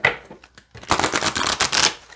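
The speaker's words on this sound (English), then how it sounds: "I hold them lengthwise like this and rifle them this way" Large oracle cards held lengthwise are riffled in a quick, close flurry of crisp paper flutters, preceded by a few light taps and handling sounds.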